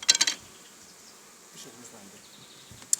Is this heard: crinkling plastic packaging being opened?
no